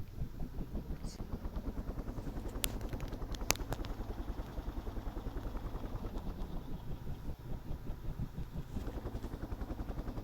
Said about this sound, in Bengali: এখন আমি একটি হেলিকপ্টার দেখলাম